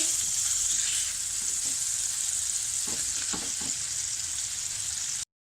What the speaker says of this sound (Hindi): फिर इसमें हम अपनी चिकन डाल देंगे। मिक्स करेंगे अच्छी तरह से।